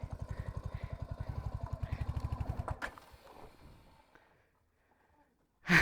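Off-road vehicle stuck on a hill trail, its engine revving in rapid loud pulsing bursts for nearly three seconds before dropping to a low idle and near silence, then a sudden loud burst at the end.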